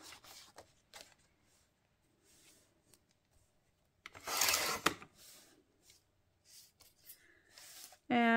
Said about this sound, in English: So the first thing I want to do is cut off my branding strip.